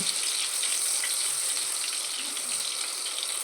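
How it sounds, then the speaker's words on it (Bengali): Thinly cut radish deep-frying in plenty of hot oil gives a steady, dense sizzle, an even hiss that carries on without a break, with no talking. "মুলো আমি এইভাবেই ফাঁকা তেলে একেবারে ফাঁকা তেলেই ভেজে নেব"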